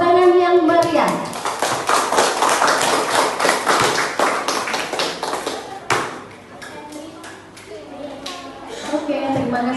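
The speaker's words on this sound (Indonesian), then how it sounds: "Tepuk tangan yang meriah." Students clapping in a classroom, a loud, dense burst of rapid claps and taps close by that gradually thins into scattered claps, with voices speaking at the start and end.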